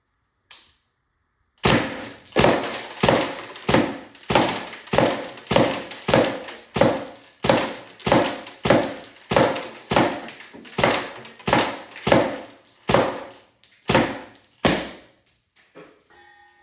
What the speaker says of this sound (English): Rack the marker, air the marker, shoot the marker.